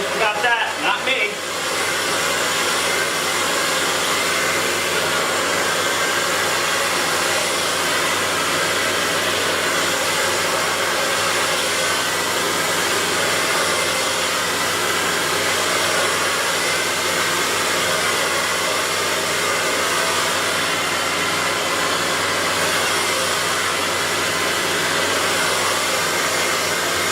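A hair dryer blowing out hair during a Paul Mitchell school final audition: a loud, steady, close roaring whoosh of air that starts abruptly after a brief moment and runs unbroken for nearly half a minute.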